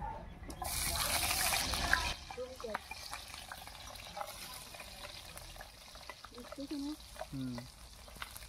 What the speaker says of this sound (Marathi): तर आपण तेल घालून घेऊ, टाकायची मिरची आणि लसूण